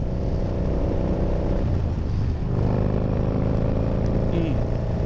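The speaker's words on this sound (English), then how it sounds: "this is the first time I've heard the exhaust with the earplugs in" A motorcycle exhaust is heard while riding, as a steady, loud engine drone with wind rush that holds throughout, and a voice talks over it.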